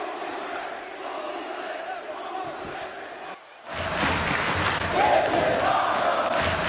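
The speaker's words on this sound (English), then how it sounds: "And the crowd with the holy shit chants" A wrestling crowd at an NXT final battle event chants loudly, the roar dipping briefly midway before surging back stronger and sustained.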